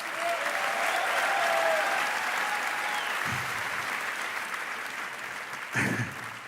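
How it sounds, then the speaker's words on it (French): A theatre audience claps hard and steadily in a dense, continuous wash of applause at a live comedy show, with a couple of brief thumps near the middle and end. "vous pouvez vous applaudir plus fort que ça"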